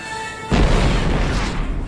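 A missile explosion in Star Wars: Episode II – Attack of the Clones, one sudden loud deep boom that follows a quiet tonal hum and then rumbles on, heavy and close.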